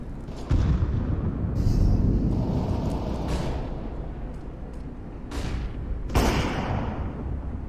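Fire grenade thrown in a video game: heavy booming blasts and a sustained roaring burn, with several sharp bursts punctuating the dense, loud rumble.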